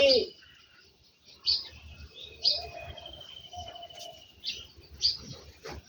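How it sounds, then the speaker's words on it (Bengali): Birds call outdoors in short, bright chirps that recur roughly every second or two, moderately close, over a low background rumble. "আসে পাখি ডাকে"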